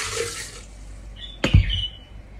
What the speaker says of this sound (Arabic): تاخذون معدنوس بقد كف الايد تقريبا، هذه الكميه اخليها بالخلاط واضيف وياها كوب من الماء